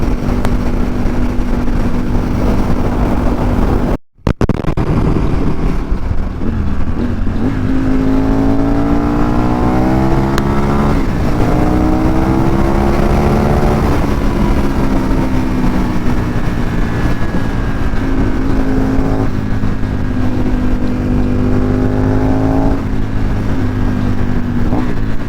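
Aprilia Tuono 1000 R motorcycle with a LeoVince dual exhaust: loud, continuous engine roar with repeated rising revs and drops, close by and dominating throughout.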